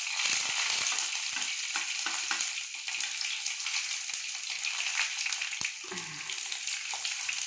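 Green chilli hitting hot oil in a pan with curry leaves gives a steady, loud sizzle and crackle, with a few low knocks from stirring, no voices.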